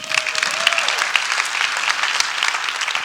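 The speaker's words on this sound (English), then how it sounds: "Give yourselves a round of applause." An audience at the CGI 2025 legal operations conference main stage applauds, a dense, steady wash of clapping from many hands that holds at a fairly loud level throughout, with no talk over it.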